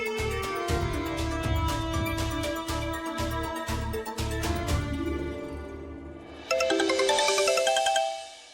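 A mobile phone ringtone plays a bright, repeating melodic pattern of pulsing tones in a Marathi television serial scene, then shifts to a higher, shimmering chime near the end, with no talking.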